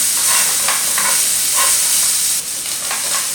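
Tomato paste frying in a tomato sauce for fried fish, a loud continuous sizzle close by, broken by several soft scrapes of stirring, with no talking.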